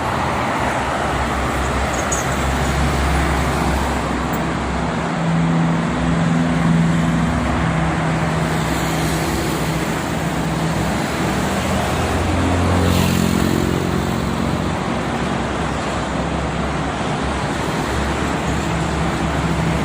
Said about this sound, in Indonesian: Untuk ke arah timur ini mobil pribadi campur ya, mobil pribadi, truk barang, juga bis-bis pariwisata dan bis angkatan pagi akap.